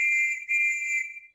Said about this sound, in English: And Dave, you can blow this whistle to start and stop the train.